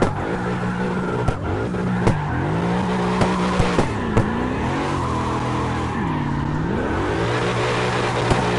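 A car drifting with the handbrake in the racing game CarX: the engine drones and revs while tires squeal and skid through turns, with a few sharp clicks on top.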